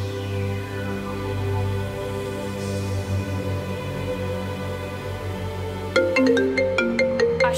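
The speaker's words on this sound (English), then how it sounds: "Go ahead, answer the phone" Mobile phone ringtone playing during a magic act on a talent show stage, a sustained electronic melody with a louder, brighter burst of repeated chiming notes near the end, heard alone without talk.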